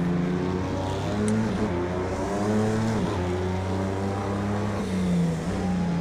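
An Audi R18 diesel race car in Project Cars 2 on the Le Mans circuit revs in fifth gear with a steady, droning engine note. The pitch climbs and holds, then drops briefly at each shift, loud and close throughout.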